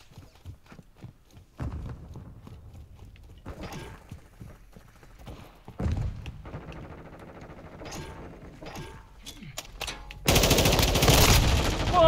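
Gunfire from a Search and Destroy match of Call of Duty: Modern Warfare 2 on Xbox at the Zarqwa Hydro Electric map: scattered shots and clattering footsteps, then a loud sustained burst of automatic fire near the end.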